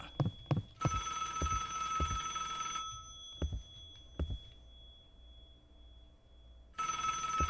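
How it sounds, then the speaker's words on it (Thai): Telephone ringing in the Roblox horror game Alone: a bright, sustained electronic ring runs for about two seconds, stops, then starts again at the end. Dull thumps and footstep-like knocks sound between the rings. "เสียงโทรศัพท์มันใกล้ เข้ามาทุกที"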